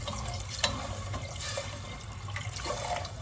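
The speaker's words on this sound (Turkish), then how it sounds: "Mercimeklerimi de kavurdum ve su ekliyorum." Water being poured into a pot of sautéed lentils, a steady close rush and splash of liquid that lasts the whole moment at an even level, with faint bubbling underneath and no voices.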